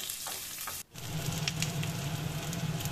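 Two large diced onions frying lightly in a pan for chilli paneer, a steady close sizzle with a brief dip near the start, then continuous crackling and spitting.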